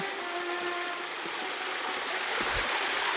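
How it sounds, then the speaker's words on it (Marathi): Fast, strongly flowing stream water rushes steadily along a trail at a Maharashtra hill fort, a close, continuous broadband roar with a few faint knocks and no voices. "फुल पाणी चालू आहे एकदम."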